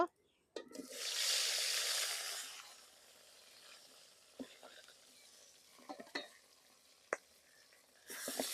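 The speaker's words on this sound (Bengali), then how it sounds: "বাকি মাছগুলা বাজা নিব" Pieces of rohu fish drop into hot oil, bursting into a loud hiss that fades over a couple of seconds, followed by quieter sputtering and a few sharp clinks of a utensil.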